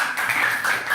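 Classroom applause at the close of a lesson, a short burst of many hands clapping densely and fairly loud for about a second, with no talk.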